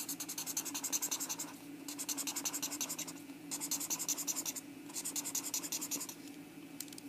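A pen or marker scratches steadily across paper while drawing a rectangle for a fractions model, four sustained strokes with short gaps between them, close and quiet, no talk.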